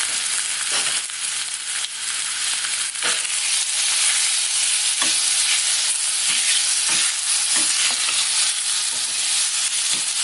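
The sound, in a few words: pork ribs frying in a pan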